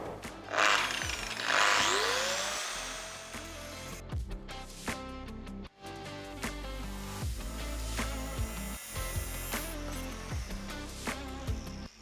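A power cutting tool whines in short bursts through the car exhaust section between the turbo and the exhaust line, nearby and moderately loud, with pitch sweeps as the blade spins up and slows.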